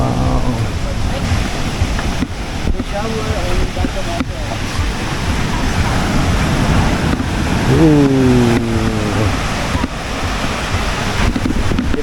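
Waves wash ashore on a beach in El Nido, Palawan, making a constant roaring surf with wind buffeting the microphone, while people talk over it.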